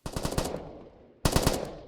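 Automatic 5.56 rifle fire in the video game Afterconflict: two loud close bursts of rapid shots, each a fast string of sharp reports, separated by a roughly half-second fading tail of decay.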